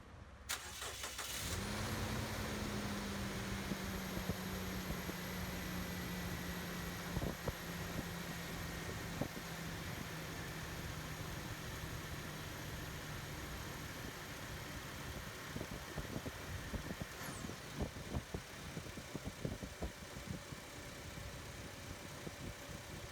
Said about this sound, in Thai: เดี๋ยวฟังเสียงเครื่องดีกว่า